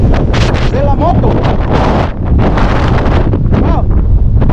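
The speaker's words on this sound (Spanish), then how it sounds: "En serio, hace un viento pero terrible." Strong gusting wind batters the microphone of a motorcycle riding across mountains between Oaxaca and Chiapas, a loud continuous roaring rumble with bursts of buffeting and faint voice fragments beneath.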